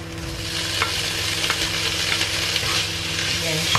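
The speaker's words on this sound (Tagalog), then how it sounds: "Yan siya, at i-mix mo lang, haluin." Garlic, onion and leg ham stir-fry in a pan for fried rice with a loud, steady sizzle and frequent close scraping and stirring sounds.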